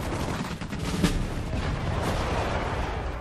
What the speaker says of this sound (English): And one final grenade.